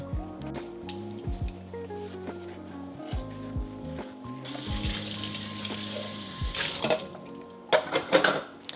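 A kitchen tap runs water into a sink during cleanup after cooking, a steady broadband rush that swells in the second half, with faint clatter and tonal background music underneath.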